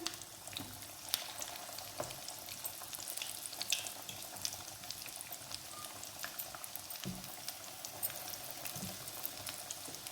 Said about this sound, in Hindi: एक एक करके इनको डाल देते हैं कढ़ाई में, मीडियम फ्लेम रख के इनको पकने देंगे